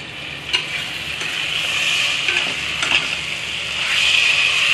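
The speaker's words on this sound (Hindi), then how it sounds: "और ये देखिए भुन रहा है" A semolina, potato and vegetable stuffing roasts in a pan, giving a steady close sizzle with occasional scraping stirs and no voices.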